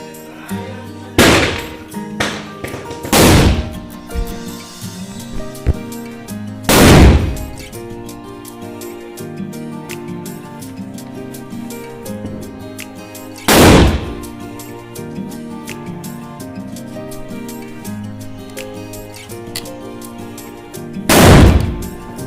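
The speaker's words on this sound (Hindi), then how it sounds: "ऊपर पटाखे चलाने के बाद लक्ष्य आ गया है बाहर पटाखे चलाने के लिए" Diwali firecrackers go off outside a village house: five loud, sharp bangs spaced several seconds apart, with smaller pops between them and a steady tonal background throughout.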